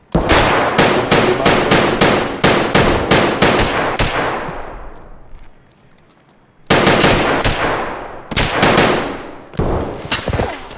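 Loud bursts of rapid automatic gunfire in a video game in quick volleys, a fading pause of near silence, then more heavy firing, sharp and close.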